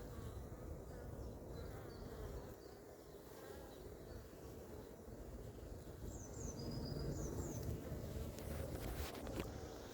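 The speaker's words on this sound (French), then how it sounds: "Ah, les petites abeilles," Steady buzzing of many honeybees around hives at an apiary in Montgeron, outdoors, soft and continuous, with light wind noise in the background.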